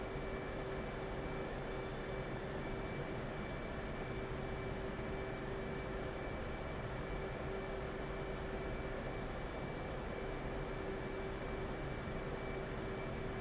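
Simulated F/A-18C Hornet jet taxiing in the DCS flight game, a steady loud engine whine and broadband roar with a sustained tonal hum, constant throughout with no talk.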